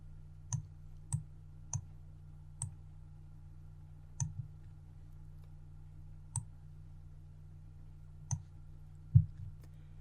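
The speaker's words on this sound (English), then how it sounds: "click on Ctrl-T on your keyboard" Computer keyboard keys click one at a time in a quiet room, about nine crisp, isolated taps spaced irregularly over a low steady hum, with no talking.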